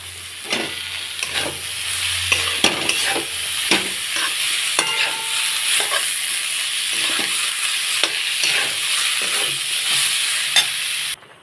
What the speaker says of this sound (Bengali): মশলার সঙ্গে চাল কুমড়ো মাখানো হয়ে গেছে